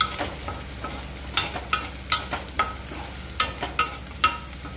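Garlic sautéing in sesame oil in a pan for garlic thokku pickle, with a steady close sizzle and repeated sharp scraping and stirring strokes in an uneven rhythm, with no voices.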